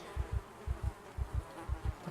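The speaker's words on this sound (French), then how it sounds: "Il y a déjà des mouches." Flies buzz in the video game Project Zomboid, a soft low droning that pulses in paired bursts, four pairs at a steady rhythm, faint and alone.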